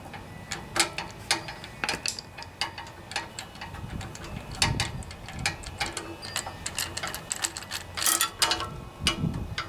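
A long Phillips head screwdriver turns screws on a Tecumseh Enduro OHV 5 horsepower engine, giving close, irregular ratcheting clicks and sharp metallic ticks in quick bursts, with no talking.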